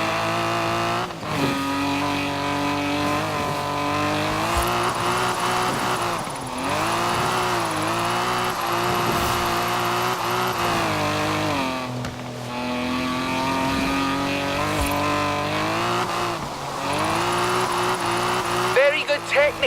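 Car engine in Forza Horizon 4 held at steady revs while drifting, rising and dipping as the throttle shifts, with faint tire squeal, continuous under someone talking.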